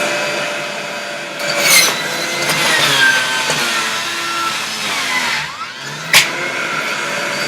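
A household juicer grinding beet and carrots, a loud continuous motor whine with shifting pitch as pieces are fed in, plus a few sharp crunching bursts, with no voices.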